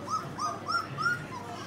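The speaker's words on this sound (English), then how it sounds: "11 days old. Real nice puppies." Eleven-day-old newborn puppies give four short, high, rising whimpers in a quick, evenly spaced series, close and clear over a quiet room with no talking.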